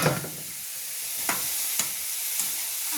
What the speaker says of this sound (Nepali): त्यसपछि यहाँ सागलाई फ्राई गर्दैछु